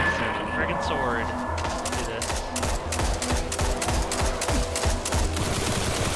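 Rapid, dense gunfire from a Destiny Prison of Elders match, volleys of heavy weapon shots cracking close and loud in a steady stream while players shout over the action.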